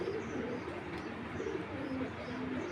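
Giribaz pigeons, an original Palla-line Sapchila pair, give low soft cooing that repeats steadily at close range, with no talking.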